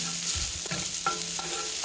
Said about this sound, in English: Okay, so I've just added our garlic, as you can see, into the pan. And we're just going to stir fry this